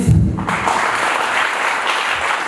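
Audience at a company's tenth anniversary event breaking into applause after a short burst of voice at the start, then an even, sustained wash of clapping that stays fairly loud.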